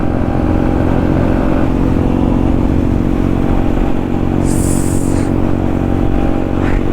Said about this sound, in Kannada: ಫುಲ್ ಟ್ಯಾಂಕ್ ಪೆಟ್ರೋಲು, 2 ಪವರ್ಫುಲ್ ಬೈಕ್ಗಳು, ಆ ಎಕ್ಸಾಸ್ಟ್ ನೋಟು